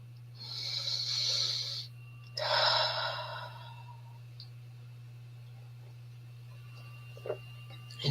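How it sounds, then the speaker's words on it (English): During a guided tapping relaxation exercise, a slow deep breath is drawn in close to the mic and then released in a long airy exhale, followed by near quiet over a steady electrical hum. "Take a deep, nourishing breath with me."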